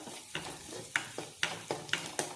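Chopped onions fry in a pan for chicken curry and are stirred with a utensil. Steady, close scrapes land about every half second over a soft sizzle.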